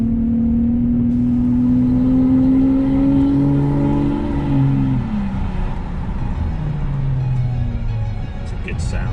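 A straight-piped BMW V12 in a roadster revs loud and close, its strong tone rising then falling and sliding off through the run, with road noise steady underneath.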